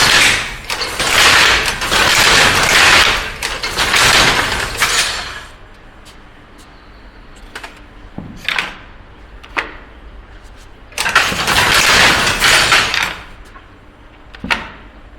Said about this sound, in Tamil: தறியை போட்டு விட்டு பார்க்கலாமா